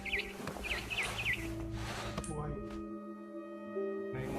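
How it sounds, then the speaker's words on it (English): A barn swallow chirps in the video game What Remains of Edith Finch, a few quick twittering calls near the start over a steady game ambience with tonal hum, then fading into quiet background. "Then I heard chirping outside my window. It was a barn swallow going back to her nest."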